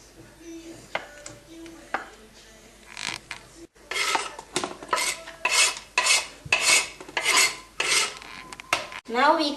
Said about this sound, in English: grate the cheese.